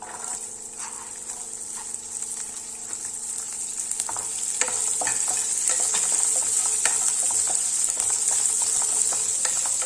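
Onion and green chilli sizzle steadily in oil in a pan while being stirred, giving a continuous close hiss with scattered soft scrapes and pops that grow slightly louder partway through.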